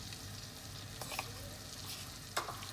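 Butter, vegetable oil and flour sizzle in a pan while being stirred for a béchamel roux, a steady soft frying hiss with a few brief scraping stir sounds, close and alone without talk.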